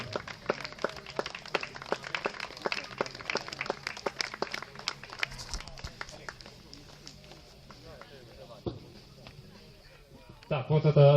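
Applause for young cyclists at a bike-race awards ceremony in Uzhhorod, a crowd clapping steadily for several seconds, then fading, with a voice over a loudspeaker coming in at the end.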